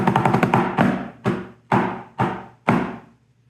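Snare drum in a historic drumming lesson: a quick rapid roll gives way to a series of sharp, accented flam taps spaced evenly apart, each hit ringing briefly, played close and solo.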